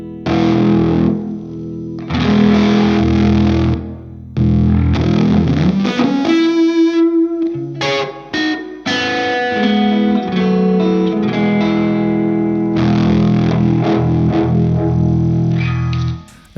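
Electric guitar played through a Uni-Vibe preamp and fuzz pedal: loud, thick distorted chords and sustained notes with a swirling, throbbing modulation, broken by brief pauses and a few higher single-note lines, played alone without talk.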